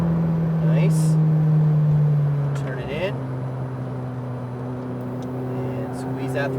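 A McLaren 570 engine hums and then builds under light throttle on a drive, a steady tonal drone that shifts pitch midway, with a voice coaching over it.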